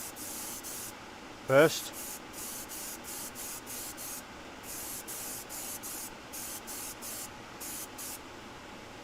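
An airbrush dusting a light coat of Vallejo paint, soft hissing sprays in short, evenly spaced bursts, close and quiet, with a brief word spoken early on.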